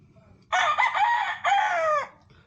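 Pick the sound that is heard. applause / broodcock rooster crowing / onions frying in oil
broodcock rooster crowing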